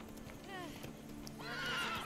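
A horse in the Witcher 3: Blood and Wine video game, with clip-clopping hooves and two drawn-out whinnies, the second louder, while someone talks over the game sounds.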